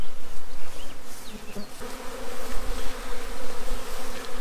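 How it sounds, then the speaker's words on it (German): A large early-season swarm of honey bees buzzes loudly and close, a dense continuous drone with individual insects whining past the microphone. "Der erste Schwarm. Oder vielleicht auch 2. Also bei der Menge an Bienen, ich kann es gar nicht sagen."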